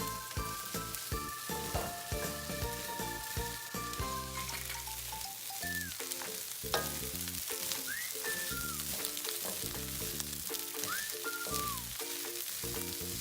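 Fried rice with green beans and carrots sizzles in a pan while being stirred constantly, a steady close frying hiss with tonal music playing over it.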